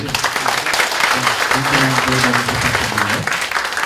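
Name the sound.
audience applause for a professor after a lecture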